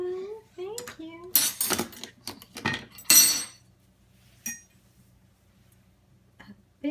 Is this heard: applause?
no